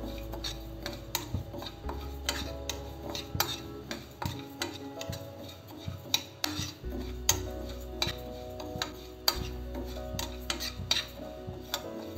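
Dry ajwain seeds toasted in a pan for green chilli pickle, giving soft scraping and ticking as a spoon stirs them, with light clinks of metal on the pan, close and fairly quiet.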